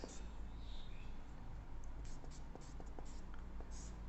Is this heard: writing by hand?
yes